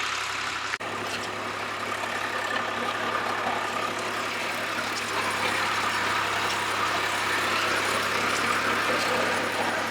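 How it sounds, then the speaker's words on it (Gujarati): A farm tractor ploughing a field runs continuously and loud, a thick, unbroken engine drone with a single sharp click near the start. "ट्रैक्टर में इतनी आवाज आ रही है कि हमें जोर से बोलना पड़ रहा है"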